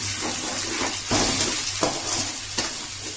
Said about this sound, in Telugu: ఇలా పేస్ట్ చేసుకొని దాంట్లో పొయ్యాలి బాగా వేగాలి